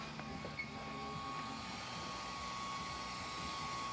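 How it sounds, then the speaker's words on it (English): Small cooling fans spin inside aftermarket LED headlights on a 2001 Ford Crown Victoria, a steady faint whir over a low idle-like rumble that holds evenly throughout with no voices. "You can hear the little fans running in there."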